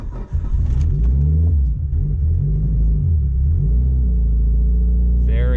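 A Toyota MR2 in less than full health cranks and catches on a cold start, then its engine is revved with the throttle and settles into a loud, steady, low rumble close by.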